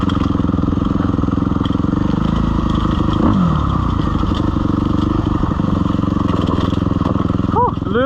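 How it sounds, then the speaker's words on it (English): A Husqvarna dirt bike climbs a steep, loose rocky hill. Its engine roars loudly and steadily close by, and scraping and clattering rocks mix in with wind buffeting throughout. "I have to bring the Husqvarna back out and head up it."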